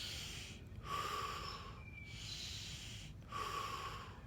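Slow deep breathing during a quiet moment of sitting with emotions, two or three long breaths in and out at an even pace, close and soft with a faint background hiss.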